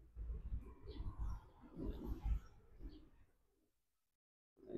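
Soft, low pigeon cooing comes in a few quiet bursts on a drizzly overcast day, fading into near silence before another coo begins at the end.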